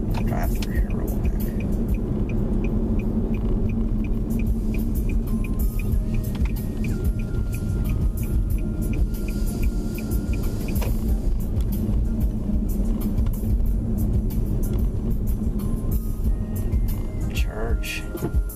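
A car drives slowly through Pittsburgh city streets on a Saturday morning, its steady low engine and road rumble heard from inside the cabin beneath ongoing conversation.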